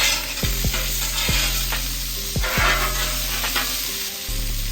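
Bacon and sausage sizzle on a Blackstone griddle with a steady bright hiss, punctuated by several sharp metallic spatula taps and scrapes against the flat-top surface.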